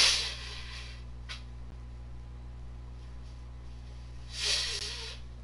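Two muffled nose blows, one at the start and another near the end, with quiet room hiss and a low steady hum between them; no one speaks.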